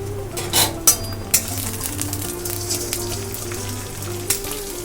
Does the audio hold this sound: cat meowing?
no